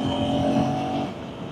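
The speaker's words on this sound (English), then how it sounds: "rolling on with the throttle wide open from 60 kmph in 6th gear" A car engine pulls at wide-open throttle in sixth gear from about 60 km/h, giving a steady, close droning tone that holds without a break and carries no talk.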